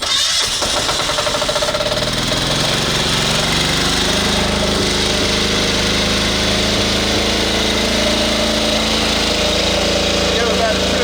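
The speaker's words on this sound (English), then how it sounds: "we'll start up your generator" A portable generator powering a mobile security tower starts up loudly and settles into a steady, close engine drone that runs without a break.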